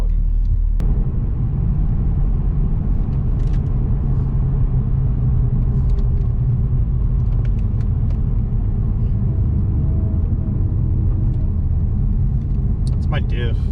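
A Cadillac CTS-V warming up and driving, with its engine giving a loud, continuous low rumble throughout as people talk over it.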